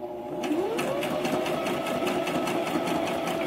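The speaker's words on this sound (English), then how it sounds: "The reason why I'm doing these zigzag stitches because I want to make sure that all of the felt is getting sewn into it" A sewing machine runs continuously, stitching zigzags into felt, with a steady, fast mechanical whir and rhythmic clatter of the needle, close and fairly loud.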